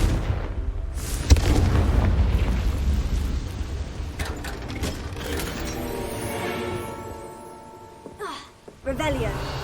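A Confringo fire spell in Hogwarts Legacy gameplay, bursting into a loud booming explosion that rumbles and fades, followed by further sharp magical effects, with a voice speaking over the game sounds.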